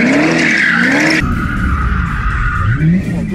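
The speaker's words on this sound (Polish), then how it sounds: "teraz już spokojnie można kontrolować poślizg, robić większe kółeczka" 1971 Dodge Challenger with a Hellcat engine drifting, its tires skidding with a loud sustained squeal over a roaring, revving engine close by.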